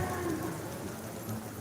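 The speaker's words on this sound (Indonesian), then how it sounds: "Hujan guys." Steady rain falls outdoors during an ondel-ondel parade at TMII, making a dense, even wash of patter with no clear breaks.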